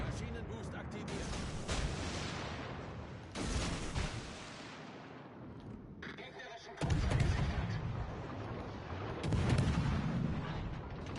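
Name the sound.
warship guns firing in a naval video game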